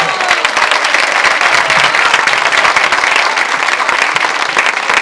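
A big audience at a children's circus show in Valencia claps loud and fast, a dense, steady wall of applause with some cheering mixed in.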